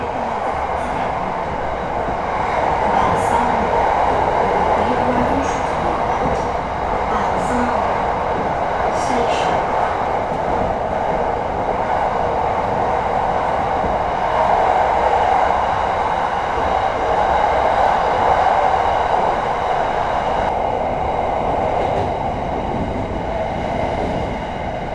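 Bangkok SRT Red Line electric train riding and curving left toward Bang Son station: a loud, steady interior rumble with rolling wheel noise, brief high squeals and clicks, and someone talking faintly over it at times.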